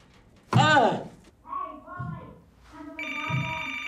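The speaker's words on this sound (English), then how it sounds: "Your phone's ringing." A telephone bell rings indoors, with a bright burst near the start and a steadier tone later, while people talk over and between the rings.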